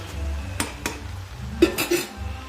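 Gongura chutney being stirred in a pan with a spoon, producing a series of distinct metallic scrapes and clinks against the metal at an irregular pace, fairly close and moderately quiet.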